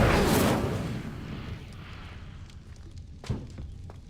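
A fire spell being cast in Hogwarts Legacy, a sudden roaring whoosh of flame that fades over a couple of seconds, followed by a soft thud and footsteps.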